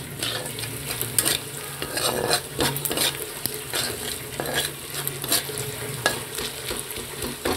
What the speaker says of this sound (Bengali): আর এখানে পেঁয়াজ রসুন ভাজা হচ্ছে